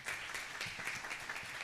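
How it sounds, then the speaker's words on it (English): Brief, quiet applause from a conference audience at an ophthalmology meeting, an even patter of many hands clapping at a distance. "another round of applause to our panelists, to our chairs of this session"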